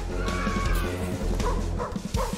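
Dogs in the video game Darkenstein 3D bark and yip in short rapid bursts over a loud, dense game soundtrack, the barks close and repeated.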